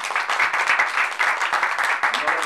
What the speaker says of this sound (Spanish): Un aplauso para David Ramón.